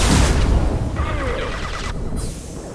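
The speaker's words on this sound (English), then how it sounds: "Impending explosion." An explosion goes off in the video game Mass Effect 2: a heavy, loud opening boom that rolls on as a long rumbling tail, with layered debris and combat noise fading slowly away.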